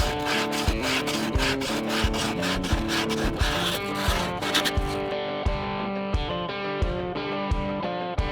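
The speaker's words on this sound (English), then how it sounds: "I'm gonna hand sand the inside of this whole surface, try to get it rounded out a little better and smooth." Hand sanding across the inside surface of a wooden cornhole board, a steady run of rhythmic rasping strokes, close and fairly loud, with a tonal musical backdrop underneath and no talking.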